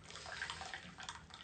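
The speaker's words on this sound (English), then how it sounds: "Sound you're hearing is me pouring a cup of tea" Tea being poured into a cup makes a soft, continuous trickle and splash, faint and close, with no voices.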